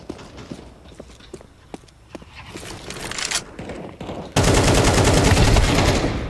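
An AK rifle in a Counter-Strike 2 deathmatch: scattered footsteps and a few distant shots lead into a loud, sustained close burst of rapid automatic fire for the final two seconds.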